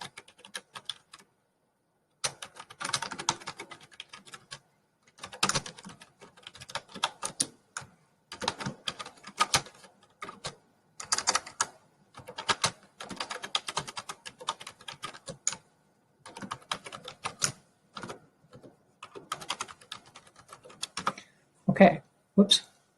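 Bursts of computer keyboard typing in short rapid runs separated by pauses, close and crisp, entering text into a PowerPoint 2019 slide text box.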